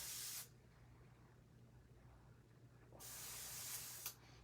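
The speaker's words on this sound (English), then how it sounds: "I'm going to be laying the Chaos Star stencil down and then spraying some lighter colors" An airbrush sprays paint through a Chaos Star stencil onto a custom Halloween mask from Italy, close hissing bursts at the start and end with a quieter pause between.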